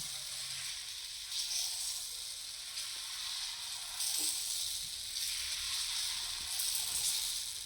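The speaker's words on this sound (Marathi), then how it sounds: "आणि आपण घेतलेलं मिश्रण त्यावर टाकून घ्यायचं आणि अलगद हाताने गोल गोल असं फिरवून घ्यायचं" Semolina dosa batter sizzles steadily on a hot griddle as it is spread in circles for a thin paper dosa, a continuous close frying hiss with slight swells and no talking.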